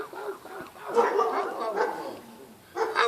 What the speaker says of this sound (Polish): A te psy tam to są pana?